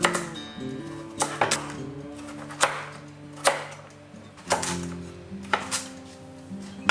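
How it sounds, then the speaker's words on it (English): Knife chopping raw pumpkin into small pieces for chutney, a series of sharp, fairly close cuts at an uneven pace, with steady tonal music playing underneath. "I already have to cut up a lot of pumpkin fairly small for the chutney that I'm going to make."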